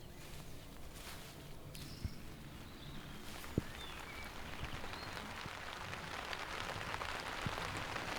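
Steady rain falling over a countryside vegetable garden, a dense, even hiss of drops on surfaces with a few louder nearby taps and knocks, continuous for the whole stretch with no talking.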